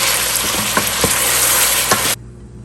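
Chopped onions fry loudly in a hot pan, a dense close sizzle with a few soft stirring knocks, cutting off abruptly near the end.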